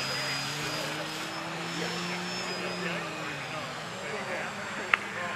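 A model aircraft at the SAE Aero Design East competition drones steadily overhead after a hand launch, its engine a sustained buzzing whine in open air, with crowd noise behind it.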